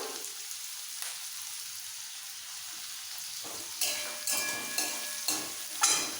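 Curry leaves sizzling lightly in hot oil while cooking a spicy chicken roast, a soft steady crackle that swells into a few sharper bursts of spattering toward the end.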